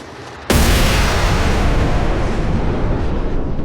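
A thrown grenade detonates in a sudden, loud blast that bursts in after a brief quiet moment, then rolls on as a dense, rumbling roar that fills the rest of the stretch without fading much.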